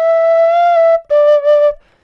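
Close, solo tin whistle note played with the top hole half open: a long bright sustained tone, then a short pulsed follow-up phrase before it cuts off.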